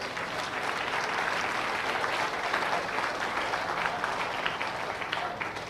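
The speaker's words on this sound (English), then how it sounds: "deserves a big round of applause also" Sustained applause from a crowd at a 4-H/FFA beef show fair, steady and dense with many hands clapping at once, holding evenly for several seconds without a break.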